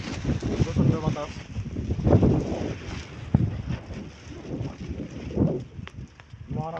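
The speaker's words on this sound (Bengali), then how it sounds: "প্রচন্ড বাতাস" Strong wind gusts across an open river, buffeting the microphone with loud, uneven rumbling bursts, while a voice talks in the background.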